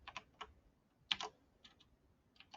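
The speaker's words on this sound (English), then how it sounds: "I'm just going to type it out." A computer keyboard is typed on in short quick bursts of close, crisp key clicks separated by brief pauses, quiet and alone.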